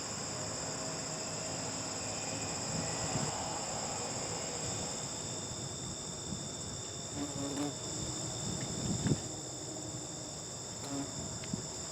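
Bald-faced wasps buzz steadily in a faint, constant drone with a high insect hum, occasionally louder as one passes near.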